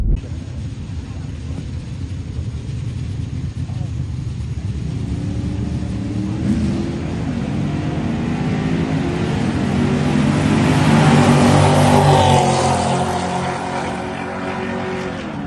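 Race cars, including Pontiac G8s, accelerating hard at a Friday night drag strip test-and-tune, a loud sustained engine roar building and peaking toward the end.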